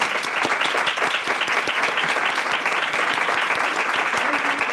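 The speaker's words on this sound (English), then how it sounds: "an applause for the Commissioner" Sustained applause from an audience at a European policy event on the circular economy, honouring a Commissioner; dense, steady clapping fills the whole stretch with no break.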